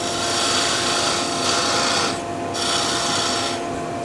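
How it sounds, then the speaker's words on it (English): A parting tool side-scraping a turned wooden patio skittle on a lathe gives a steady, loud rasping scrape that runs continuously, with brief lighter dips in pressure as the cut eases and resumes. "Side scrape with a parting tool."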